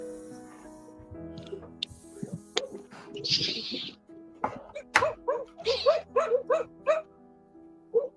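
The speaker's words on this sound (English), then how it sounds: "There's the puppy." A puppy gives a run of short, rhythmic yelps and whimpers, close and fairly loud. Scattered voices and household noises come before the yelps.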